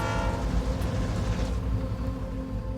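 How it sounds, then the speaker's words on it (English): Train approaching a highway crossing near a wreck site, a loud, heavy rumble with rail clatter and a sustained horn tone, close and continuous with no talking. "Oh, we got a train getting close here."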